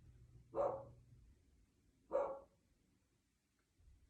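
A dog outdoors barks twice, with about a second and a half between the barks. Each bark is moderately loud and slightly distant against a quiet background.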